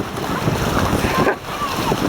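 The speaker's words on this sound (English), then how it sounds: "You gonna run into the waves?" Ocean waves wash onto a beach in a steady, close surf roar mixed with wind buffeting the microphone, while an adult and someone talk over it.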